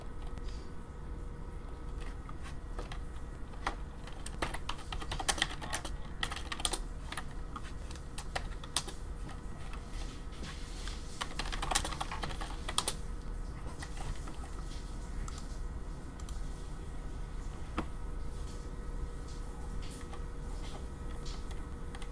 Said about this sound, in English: My typing might be very loud. I type fast for some reason.